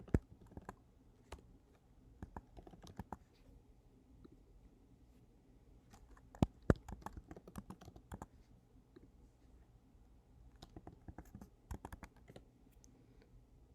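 Quiz answers are typed on a computer keyboard, a quiet, close run of irregular key clicks in short bursts with brief pauses between words.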